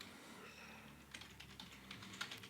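Typing on a computer keyboard for a C++ program, quiet at first and then a run of quick, irregular key clicks with no voices.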